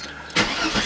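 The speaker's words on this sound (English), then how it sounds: "we'll just see if the car starts in park" A 1989 Mercedes 300E is started in park after repair of its neutral safety switch: the starter catches abruptly and the engine fires, settling into a steady running sound close by.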